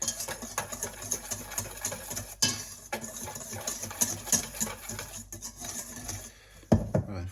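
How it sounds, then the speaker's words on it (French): Sugar, salt and cinnamon stirred together in a bowl for pancake batter, giving a steady run of close scraping, tapping strokes against the bowl, with a brief pause near the end. "le sucre, le sel et la cannelle. Et on va déjà mélanger ça."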